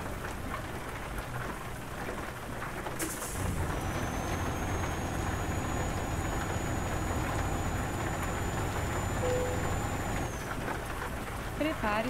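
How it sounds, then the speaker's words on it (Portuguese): Steady rain falls in Euro Truck Simulator 2 as a heavy truck drives along, a continuous hiss of rain on the cab over low engine rumble, with a brief hiss like an air brake and faint game tones partway through. "Essa chuva, vamos aumentar um pouquinho."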